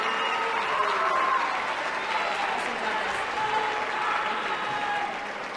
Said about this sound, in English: One more round of applause because we have our percussionists up in front